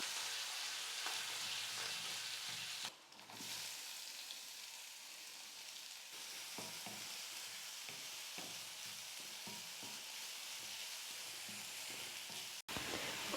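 Steady, continuous sizzling of onions and chillies frying in hot oil for susiyam, close and fairly loud, with a brief dip partway through and occasional stirring.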